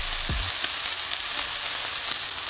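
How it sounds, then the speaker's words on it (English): Sirloin steak sears loudly in a hot pan as its fat renders, giving a dense, constant close-up sizzle with scattered pops and spits throughout. "we're going to render the fat, which you can see on the sirloin steak. You want to render it until it's nice and golden brown"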